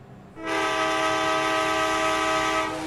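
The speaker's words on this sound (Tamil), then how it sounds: "இப்போ பாருங்கள் ஹாரன் சவுண்டு கேட்கும் பாருங்கள்" A train horn in the mobile driving game Indian Bike Driving 3D sounds one long, loud, sustained blast with a steady harmonic tone, rising in after a brief pause and holding to the end.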